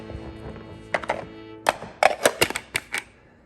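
Garlic scapes being chopped in a lidded plunge-style food chopper, with a quick run of hollow, clacking thunks, sparse at first and then bunched in rapid succession, close up.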